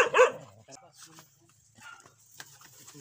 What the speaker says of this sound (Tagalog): may nakasalubong kami na aso, ang tatapang ng mga aso dito